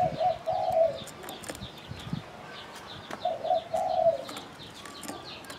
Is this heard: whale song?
no